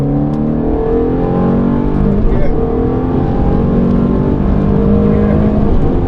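A Ferrari accelerates at full throttle on the Mondello Park circuit, its engine a loud, steady, close drone with rising harmonic tones, while an instructor's voice talks over it.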